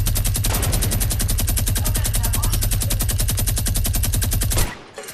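Rapid automatic gunfire from the Fortnite video game rattles nonstop for over four seconds, loud and dense, then cuts off abruptly.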